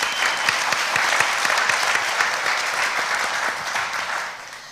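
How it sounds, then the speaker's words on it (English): An audience applauds a high school senior bound for the University of Central Arkansas, with steady, even clapping from a group that tapers off at the end. "round of applause for that"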